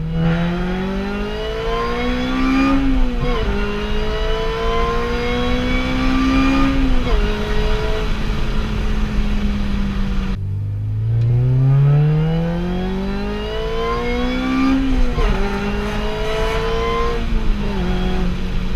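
A supercharged Honda Civic Si FA5 engine revs up loudly through several gears with supercharger whine, pitch climbing then dropping at each shift, with a brief lull before accelerating again.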